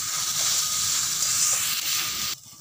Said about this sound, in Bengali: এবারে দিয়ে ধুয়ে রাখা গোবিন্দভোগ কাপের চাল, মুগ ডাল দিয়ে মশলার সঙ্গে কষে দেবো।